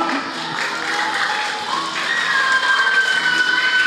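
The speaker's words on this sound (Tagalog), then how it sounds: "Mga bata, pumalakpak po." Children applaud at an awards ceremony, a steady wash of clapping from a crowd that holds evenly and swells slightly toward the end.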